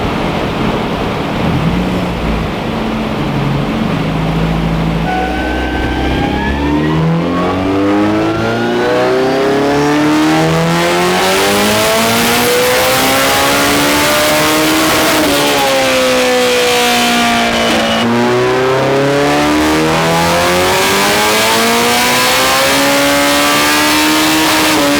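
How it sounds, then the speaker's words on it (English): A Honda S2000 engine revved hard on a dyno, a loud, close, sustained howl that climbs steadily in pitch, drops back and climbs again in long sweeping pulls with no pause. "Just running the S2000 up, just a health check."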